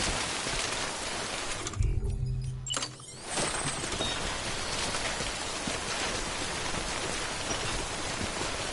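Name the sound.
timefall rain from the video game Death Stranding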